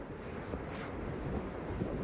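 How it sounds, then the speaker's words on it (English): Steady wind buffeting the microphone outdoors at Avon, a continuous low roar with faint surf-like wash and no speech. "It's very windy."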